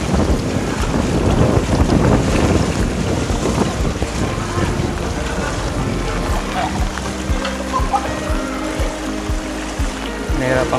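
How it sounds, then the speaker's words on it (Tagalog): Strong typhoon wind roaring and buffeting a microphone outdoors, a steady loud rush with gusty swells and some knocking and rattling in the background. "Malakas na naman yung hangin."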